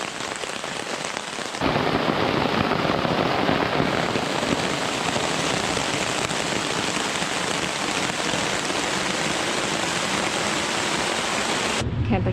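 Heavy rain pours steadily at a lakeside campsite after a quieter opening, a dense, loud, continuous hiss of drops on surfaces that stops abruptly near the end.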